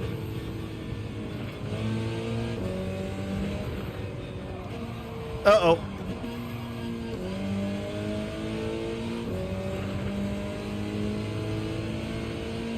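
Car engine in Gran Turismo 7 revving and shifting through gears, a steady mid-pitched drone with rising pitch sweeps over about thirteen seconds, plus a brief louder burst midway, with people talking over it.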